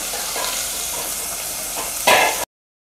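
Chicken liver sizzles steadily as it fries in a pan, with soft stirring scrapes throughout and a louder burst of sizzle and clatter near the end before cutting off abruptly.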